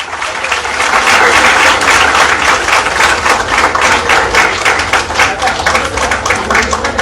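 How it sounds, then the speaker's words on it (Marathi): An audience at an award ceremony claps loudly and steadily for about seven seconds. The applause swells after a quieter first moment and stays thick and close throughout. "आणखी जोरात टाळ्या पाहिजेत"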